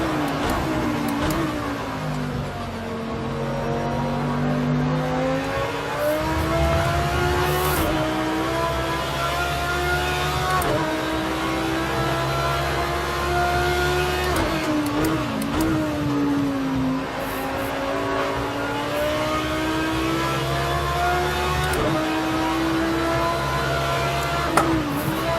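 Audi R8 LMS GT3 race car lapping Oulton Park in wet conditions in Project Cars 2, a continuous loud engine note climbing and dropping through gear changes for the whole stretch, with no talking.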